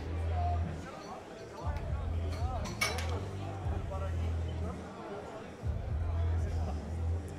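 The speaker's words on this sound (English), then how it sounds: "Got a good crowd forming here" Spectators murmur and chatter at the Thor's Power Challenge 2019 strongman competition, a steady crowd hubbub with overlapping nearby voices and a low rumble underneath throughout.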